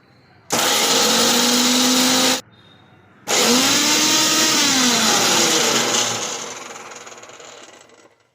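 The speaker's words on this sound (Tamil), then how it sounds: "பொட்டுக்கடலை ஆறின பிறகு அதுவும் மிக்சியில் போட்டு பொடிச்சு எடுக்கணும்." A kitchen mixer grinder powders roasted gram in two loud bursts, a short whirring run, a pause, then a longer run that winds down and fades as the motor slows to a stop.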